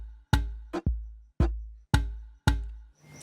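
A simple Amapiano percussion sample plays as a run of sharp, booming hits, each with a low decaying tail, five or six strikes spaced about half a second apart, clear and alone without any voices.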